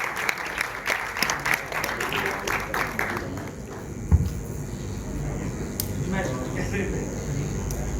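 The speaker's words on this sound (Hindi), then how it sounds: "बहुत सी तालियां, तालियां कम है" Audience applause at a Pakistani movie launch ceremony, steady clapping from a crowd that fades after a few seconds into a murmuring room, with a presenter's voice over the clapping.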